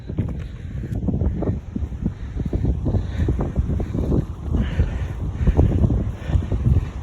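Strong outdoor wind buffets the microphone in heavy, uneven rumbling gusts that rise and fall constantly, with no voice over it, near a tree on a free-range chicken and duck farm.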